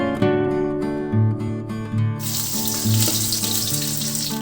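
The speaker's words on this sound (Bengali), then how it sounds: "এবার ডিমগুলো দিয়ে দিলাম। এখন ডিমগুলো 2 থেকে 3 মিনিট ভেজে নিলাম।" Eggs frying in hot oil with turmeric in a pan, a continuous hissing sizzle that grows louder and brighter midway, with low tonal humming underneath.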